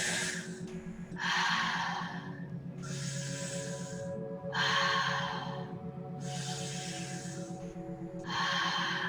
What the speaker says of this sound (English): So we're going to take only 3 breaths here.